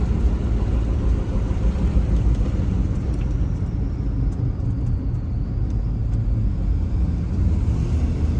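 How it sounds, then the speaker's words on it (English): Steady low road rumble from inside a moving vehicle whose front tires are cupped a little on the inside, a continuous droning hum with no voices. "can you hear that whoop whoop whoop sound? That's some front tires cupped a little bit on the inside."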